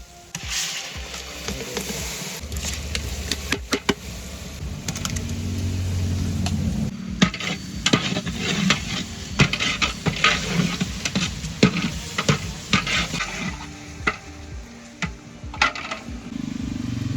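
A large batch of onions frying in oil for a 10 kg beef biryani as ground ginger-garlic paste is added, with a steady sizzle under repeated scraping, clanking strokes of a big ladle in the pot, close and continuous.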